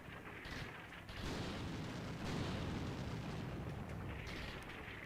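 Artillery rounds landing in the war game Combat Mission: Shock Force 2, a sustained rumbling roar of distant blasts that swells at about one second and rolls on thick and low to the end.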